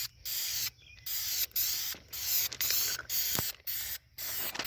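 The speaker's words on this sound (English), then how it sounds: "I think it's now to give this thing some primer." A spray can of primer coats a stripped-down go-kart in a rapid series of close, loud hissing bursts, each under a second long and separated by brief pauses.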